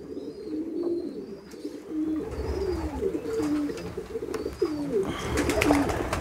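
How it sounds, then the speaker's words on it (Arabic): Pigeons coo continuously in a loft holding about 1100 birds, a dense chorus of soft, rolling low calls with occasional higher chirps and wing rustles, steady and close throughout. "هذا عدد الحمام، ها هو كيف كتلاحظوا 1100 حمامة"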